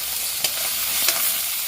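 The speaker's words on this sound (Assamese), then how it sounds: "এয়া আমি কেঁকুৰা ভাজি আছোঁ" Crabs fry in a pan with a constant close sizzle, broken by two distinct scraping strokes as they are stirred; no voices are heard.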